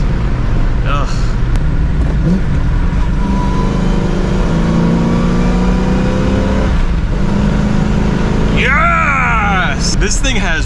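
A Ford Despairmont car engine winds out under acceleration while driving at speed, a loud steady drone with rising harmonic tones beneath constant road and wind noise, ending with a sharper sweep of revving.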